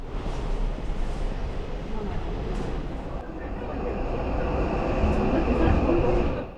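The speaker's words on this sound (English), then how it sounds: "here is our local train that will take us to Hakone-Yumoto" A local train runs from Odawara toward Hakone-Yumoto, a steady rail rumble and rolling noise that swells louder toward the end, with people talking faintly in the background.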